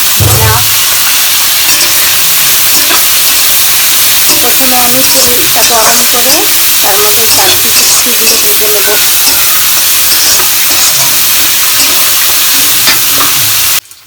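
Fish frying in a pan with spices and potatoes gives a loud, continuous hissing sizzle close up, with faint voice-like sounds murmuring underneath. It cuts off abruptly at the end.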